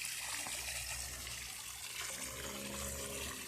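Continuous trickle of water in a Japanese garden pond, a steady soft splashing that stays even and unbroken throughout, with no voices.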